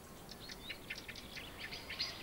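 Several blackbirds call in quick, excited bursts, a run of sharp chirps repeating over steady outdoor background noise, moderately near but not loud.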